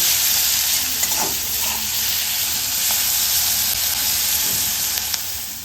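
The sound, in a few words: onions frying and being stirred in a pan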